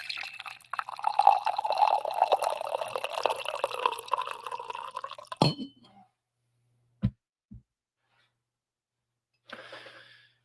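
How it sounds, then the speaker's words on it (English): Coffee pours steadily into a cup for about five seconds, then stops, followed by a couple of faint clinks or drips and a short rustle near the end; no one speaks. "One more coffee pour."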